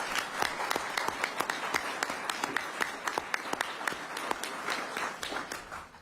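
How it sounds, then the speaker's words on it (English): A hearing-room audience at a House Natural Resources Committee session on grey wolves claps steadily, a dense patter of individual hand claps sustained for several seconds at moderate distance before tapering off, with no talking over it. "Can you give them a round of applause, please?"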